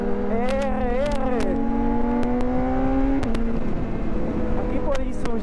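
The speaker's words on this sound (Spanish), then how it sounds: "Y traigo la BM, una BMW S1000" A BMW S1000RR sport motorcycle riding through city streets, its engine droning loud and close with rising revs and a shift partway through, while a rider's voice talks over it.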